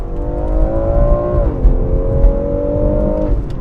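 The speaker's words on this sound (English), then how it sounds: "And a nice little pop from that exhaust on the upshift as well." A 2020 BMW X3 M Competition engine revs hard and climbs in pitch, dips briefly at an upshift with an exhaust pop, then pulls strongly again, loud and close throughout.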